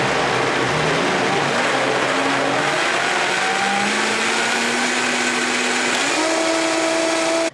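Blender whirring as it purees a spirulina smoothie, started on low and gradually ramped up, its motor pitch climbing steadily and stepping up near the end before cutting off abruptly; loud and close, with no talking.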